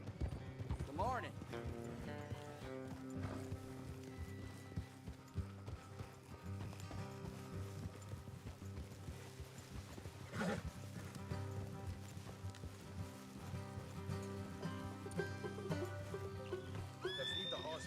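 Horses neighing and hooves clip-clopping in Red Dead Redemption 2, whinnies over steady hoofbeats and game music, faint in the mix, with characters talking alongside.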